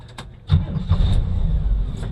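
A Jeep engine cranks briefly and catches about half a second in, then settles into a steady, close, rumbling idle with no talk over it.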